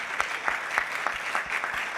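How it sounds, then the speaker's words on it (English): Conference panelists at the WSIS+20 high-level event receive applause: a small audience claps in a fairly regular, moderately quiet rhythm of distinct claps. "I would like to give a round of applause of all our panelists"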